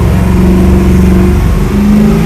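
Chevrolet Camaro engine pulling at full throttle, a loud, close, droning roar with rising tones that shift as it winds out, continuous with no break.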